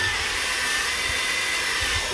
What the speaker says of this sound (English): we can also plug this in and run the hair dryer at the same time